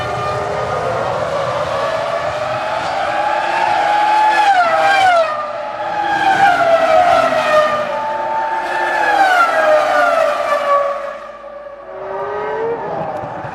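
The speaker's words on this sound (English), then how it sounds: "They go through 190 miles an hour down to turn 15, the scene of a lot of action and overtaking this afternoon." Formula One cars at the 2002 Malaysian Grand Prix scream past on track in a series of high-pitched engine whines that rise and fall as they approach and pass, loud and continuous with overlapping cars.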